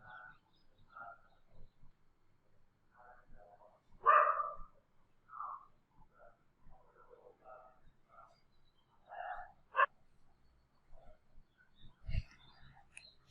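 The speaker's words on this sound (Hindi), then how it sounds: "कुत्तों को निकालना है यार इनको।" Dogs bark faintly in the distance, scattered yaps and barks spread across a quiet stretch, with a few soft clicks and thumps nearby.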